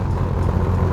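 Ford GT40 race car engine in a steady, loud low rumble at close range, a continuous idle-like drone with no talking.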